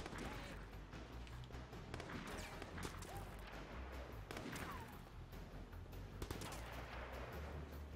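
Video game gunfire during a Sleeping Dogs street shootout, with repeated sharp shots and bursts in a steady, busy rattle over a low rumbling game background, fairly loud throughout.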